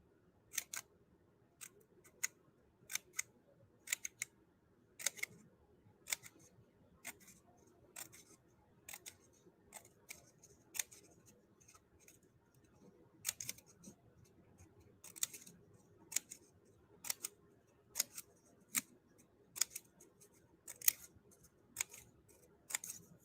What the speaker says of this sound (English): we're going to make lots of little tiny cuts so that it looks like a feather